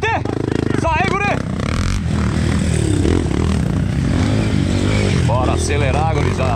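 Trail motorcycles accelerate hard during a trail ride event in Barros Cassal, Rio Grande do Sul, their engines loud, close and revving continuously, with excited shouting voices mixed in.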